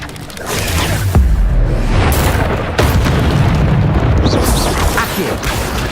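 A fire spell in Hogwarts Legacy erupts as a loud, sustained rumbling roar with booming bursts and a whooshing rush, dense and close throughout.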